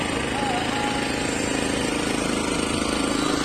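A tractor engine runs at a picnic gathering, giving a steady, loud chugging drone with a fast low-pitched pulse that continues unbroken throughout.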